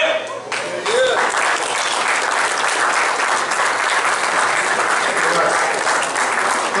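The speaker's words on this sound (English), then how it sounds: "Little golf clap for He-Man." Sustained audience applause fills an anniversary celebration, a dense, steady wash of many hands clapping that builds quickly and holds loud and even throughout, with some crowd voices mixed in.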